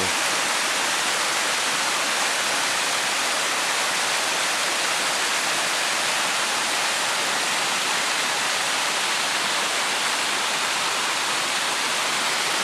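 A waterfall on the Kumano Kodo trail in Japan pours with a loud, continuous roar, broad and unchanging throughout, heard alone with no voices.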